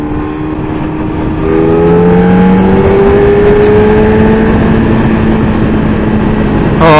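A Yamaha FZ1-N naked motorcycle's engine rises from idle into a loud, sustained rev, its tone climbing steadily for several seconds before a brief change at the end, with no talking.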